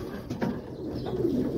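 Breeding pigeons coo softly in a loft, a low, throaty murmur running steadily through the whole stretch with a slightly fuller burst near the end, fairly close and with no voices over it.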